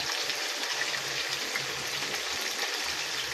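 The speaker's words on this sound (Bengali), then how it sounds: "এই যে রূপচাঁদা মাছটাকে আমি ভেজে নিচ্ছি" Pomfret fish frying in a pan with salt and turmeric, a steady, fairly loud hiss and sizzle of hot oil lasting throughout with no talking.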